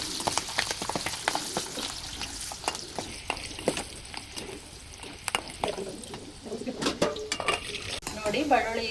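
Garlic fries in hot oil for churumuri chuduva, giving a crackling sizzle throughout, with repeated clinks and scrapes of stirring against the pan.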